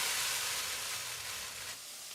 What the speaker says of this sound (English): We want a kitchen sizzle.